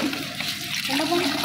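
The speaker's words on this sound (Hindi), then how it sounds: "गरम गरम पानी पहले निकालेंगे" Hot water gushes steadily from a pump in a rural yard, a continuous rushing flow close by with no talk over it.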